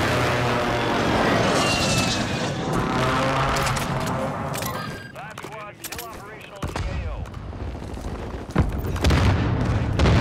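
Explosions from a video game airstrike boom loudly over a battle-royale soundscape with gunfire and aircraft noise, several heavy blasts and crackling bursts across the stretch, with voices talking over parts of it.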